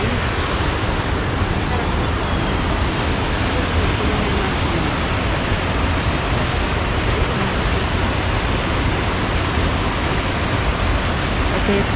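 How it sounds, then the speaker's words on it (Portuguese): A waterfall near Lavras Novas, Ouro Preto, Brazil roars as a loud, constant broadband rush of falling water, unbroken and even for the whole stretch. "cachoeira, olha como é que ela é bonita."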